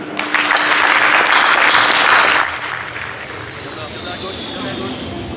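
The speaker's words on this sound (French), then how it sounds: "merci Armand, on peut l'applaudir" Crowd applause at a stadium inauguration day for Armand, outdoors; a loud burst of clapping for about two seconds that drops away, leaving open-air background and faint voices.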